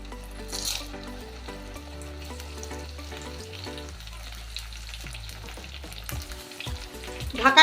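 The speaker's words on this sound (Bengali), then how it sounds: "এবার আমি এটাকে ভেজে নেব।" Cornflour-coated brinjal fries in hot white oil, a low steady sizzle with faint scraping and crackles that rise in a brief louder burst at the end.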